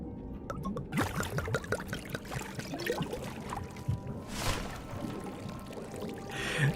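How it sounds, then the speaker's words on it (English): Wine pours in the Indiana Jones and the Vatican Photographs video game, a steady liquid trickle and splash running for several seconds, fairly quiet and close, over soft background game sounds. "Let's pour more wine down."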